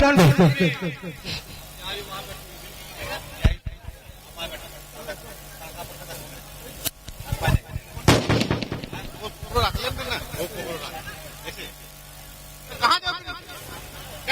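Firecrackers bursting at a sports ground before a final match, with several sharp, loud bangs and pops scattered irregularly through the clip over crowd noise and a voice talking.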